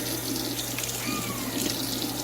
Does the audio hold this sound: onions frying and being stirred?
no